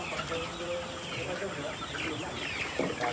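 Dekalb White chickens clucking softly in a flock, a continuous low chatter of overlapping clucks heard from close by at moderate volume.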